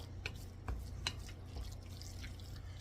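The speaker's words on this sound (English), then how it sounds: "If it sounds like a wet, muddy shoe when you're stirring it up," Tuna salad being stirred with mayonnaise, giving a few soft wet squelching clicks over a steady low background hum, close and fairly quiet.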